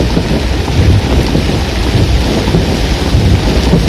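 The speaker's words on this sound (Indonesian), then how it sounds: "Tahap kedua PSBB awal diguyur hujan yang lumayan deras." Heavy rain with thunder in the city of Gorontalo, Indonesia: a loud, steady broadband downpour with deep low rumbling throughout, and no voices.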